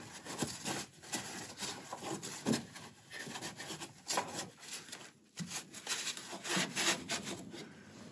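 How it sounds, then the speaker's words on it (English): Rag wiping down engine parts near the plastic radiator of an overheating VW Mk1/Mk2, a steady close scrubbing and rubbing with rhythmic strokes, faint and continuous with no talk. "I'm going to wipe this all down."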